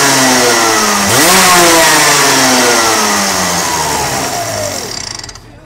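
A go-kart engine fitted with a new 2022 carburetor idles close by, then revs sharply, holds a high buzzing note and winds slowly back down before cutting off.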